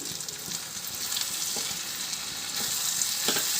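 A mixed vegetable curry with tomato pieces and salt sizzles steadily in a pan while it is stirred, with soft scraping taps of the utensil over the constant frying hiss.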